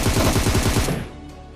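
Video game shootout gunfire, a rapid automatic burst of loud close shots lasting under a second, then trailing off into a fading echo.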